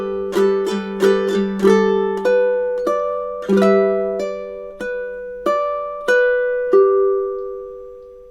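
Ukulele playing a summertime chord melody, bright plucked and strummed chords ringing out in a steady, unhurried rhythm, about a dozen close, clear attacks each decaying naturally, with no voices.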